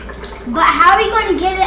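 Dry ice bubbles and fogs in a bowl of boiling water on a kitchen countertop, a steady close bubbling wash while a voice talks over it.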